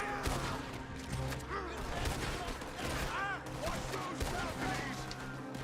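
Repeated gunfire during a Red Dead Redemption 2 firefight, scattered sharp cracks over about six seconds mixed with busy game sound and a voice talking underneath.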